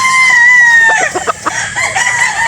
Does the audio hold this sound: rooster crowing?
yes